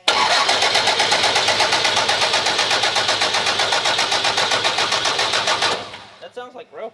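A race truck's diesel engine runs loud and close with a steady rapid pulsing chatter, then cuts off near the end, leaving a few faint rattles and clicks.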